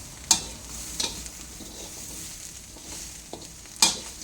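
Herbs and garlic for an Isan-style herbal chili dip dry-roast in a pan on low heat, with a soft frying hiss and a few sharp scraping clicks from stirring, close and without talk.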